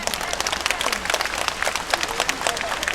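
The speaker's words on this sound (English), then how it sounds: "Now you all can try to clap as much as you want to distract him." An audience at a Singapore Zoo sea lion show claps steadily and loudly in a dense patter of many hands, with some crowd voices mixed in throughout.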